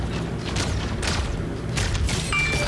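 Several sharp gunshots from the video game Fortnite crack over a steady low rumble, with a brief electronic tone near the end.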